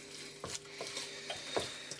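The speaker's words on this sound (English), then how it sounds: "So let's get that all whisked around." Char siu lo mein being stirred in a pan on a plug-in hob: low, soft sizzling with irregular scrapes and clinks of the utensil against the pan every half second or so, no voices.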